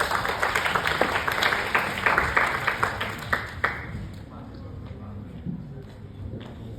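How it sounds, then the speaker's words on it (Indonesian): An audience at an Indonesian gathering claps in a dense burst of applause lasting a few seconds before tapering off into quieter room sound with scattered claps. "Kasih aplaus dulu dong."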